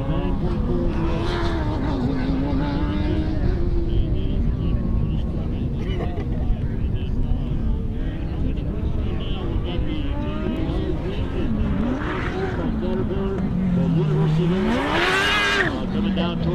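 A University of Wisconsin-Platteville Formula SAE race car, number 34, runs an autocross course, its engine droning and revving steadily throughout while a commentator talks over it.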